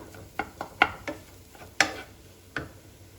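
Spiced potato filling for Mumbai vada pav being stirred with salt and plenty of fresh coriander, heard as a series of sharp, separate scraping and clinking knocks of the spoon against the pan, about seven across the stretch, fairly near and with no talk.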